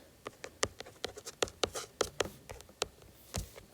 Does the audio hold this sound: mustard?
no